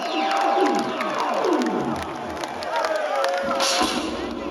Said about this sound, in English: Can we give God a round of applause?